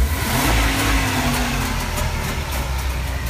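A Barkas van's three-cylinder water-cooled engine starts and runs with a steady, loud mid-pitched rumble and a rising whine early on, close up with no talking.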